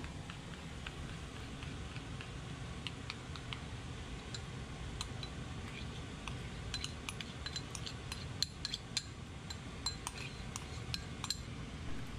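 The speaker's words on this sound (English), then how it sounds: "I have to stir up the mixture." A mixture is stirred in a Japanese home kitchen, a faint, quiet scene of light, irregular utensil clicks and clinks tapping against the container.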